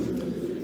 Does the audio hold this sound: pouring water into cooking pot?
no